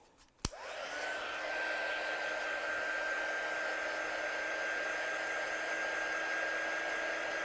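A handheld hair dryer clicks on and then runs in a steady, even whir, blowing over wet paint at close range with no talk.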